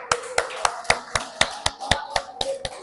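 Church congregation clapping in a steady, quick rhythm, a sharp clap about every quarter second, close and even, with a voice faintly underneath.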